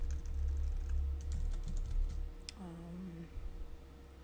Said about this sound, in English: I'm going to go ahead and just type in writer